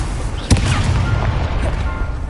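Levioso spell cast in Hogwarts Legacy, a sudden magical burst with a thump followed by a whooshing shimmer over a steady rumbling game backdrop.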